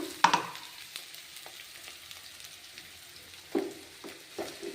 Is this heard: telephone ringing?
no